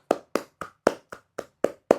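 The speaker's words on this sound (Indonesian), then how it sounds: "Oke, tepuk tangan untuk kita semuanya." A classroom group claps together in an Indonesian-language lesson, eight crisp, evenly spaced claps in unison over two seconds, close and clear with silence between each beat.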